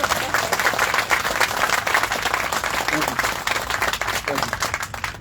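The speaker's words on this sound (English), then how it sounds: "Can y'all clap it up for our city council in general?" A crowd at an outdoor marker unveiling claps for the city council, a dense, steady burst of applause from many people at moderate volume, with a voice faintly heard alongside.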